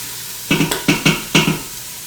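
Pumpkin chili ingredients brown in a pot as a spoon stirs them, four quick scraping strokes with a faint sizzle beneath, close by and with no talking.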